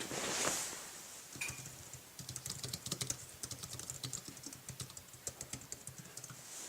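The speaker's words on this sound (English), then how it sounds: "we're going to start typing." Rapid, light clicking of keys typed on an Apple iPad keyboard dock, quiet and close, with an irregular rhythm of bursts and short pauses.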